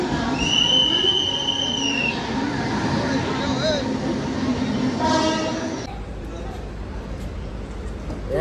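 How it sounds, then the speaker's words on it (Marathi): A train pulls into a station on a trip from Kalyan, its rumbling rail noise joined by high squealing wheel tones and short horn-like notes, while people talk over it. "चला आता ट्रेन आल्यावर दाखवतो तुम्हाला."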